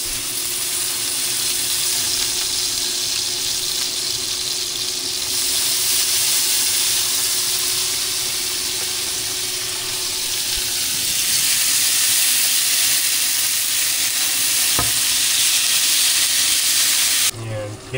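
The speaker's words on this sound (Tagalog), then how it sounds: "ito na yung ating na-marinade na salmon. Fry na natin siya sa same pan." Marinated salmon sizzles and spits in a hot pan, a loud continuous frying hiss that holds steady before a brief clatter at the very end.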